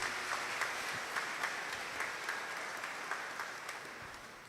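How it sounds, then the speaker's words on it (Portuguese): Church congregation applause during a Catholic Mass for All Souls' Day, a faint, distant patter of many hands clapping with a loose rhythm, steady and slowly fading. "Dá uma salva de palmas para Jesus"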